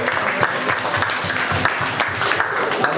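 A church congregation applauds, a brisk, steady patter of many hands clapping close by, continuous for a few seconds with no pause.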